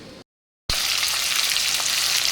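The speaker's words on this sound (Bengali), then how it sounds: "তো মাছ ভাজা বসিয়ে দিয়েছি," Pieces of fish fry in oil in a home kitchen, a dense, continuous sizzle that starts abruptly after a brief silence and holds steady and close.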